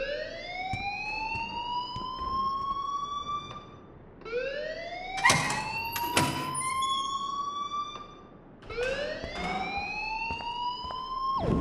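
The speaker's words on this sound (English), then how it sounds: "please turn off that alarm since that's your job" A school fire alarm in the video game Life Is Strange wails in three rising sweeps, each climbing and holding a steady tone with bright harmonics. Two sharp bangs break the middle sweep.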